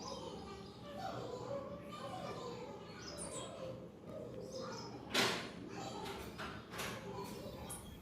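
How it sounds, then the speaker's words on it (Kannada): Small birds chirp faintly on a home terrace in the morning. Scattered tweets sit over a low background murmur, and one brief sharper call stands out near the end. "ಅಕ್ಕಿಗಳ ಚಿಲಿಪಿಲಿ ಎಲ್ಲ ಕೂಡ ತುಂಬ ಮಧುರ ಗಾಯನದ ರೀತಿಯಲ್ಲಿ ಕೇಳಿಸ್ತಾ ಇರುತ್ತೆ"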